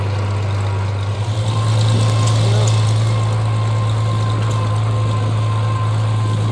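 An old Cockshutt 40 tractor engine runs steadily at an old engine show, a loud, constant low hum with a slight swell near the start, and a voice speaks briefly over it.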